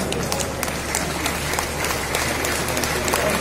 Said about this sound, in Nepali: ताली बजाएर सम्माननीय प्रधानमन्त्रीज्यूलाई स्वागत गरिदिन हुन हार्दिक अनुरोध गर्दछु